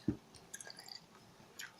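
Someone chewing candy with soft wet smacks and squishy mouth sounds close by, a few brief bursts of chewing in an otherwise quiet room.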